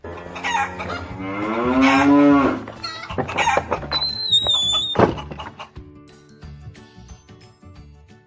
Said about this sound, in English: It was a cow mooing.